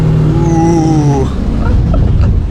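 A Mercedes-AMG C43 engine, on a car rebuilt with exposed carbon fiber, sounds up close: a steady revving note drops away, then a few small crackling exhaust pops follow.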